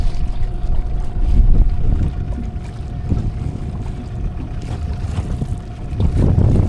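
Small aluminium fishing boat rocking on choppy water, with hull slaps, splashing and gusty wind rumble close to the microphone; no talking.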